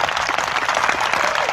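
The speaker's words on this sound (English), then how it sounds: "Give the bookmaker a round of applause." Dense applause from a live studio audience in Las Vegas, steady crackling clapping filling the whole brief stretch with no pause.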